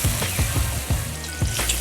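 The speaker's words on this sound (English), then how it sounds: "I'm just gonna cook these just a little bit until they become translucent." Onion and garlic sauté in oil for a leek and lemon linguini, giving a steady close sizzle broken by repeated low stirring scrapes and clacks in an irregular rhythm, with no voices.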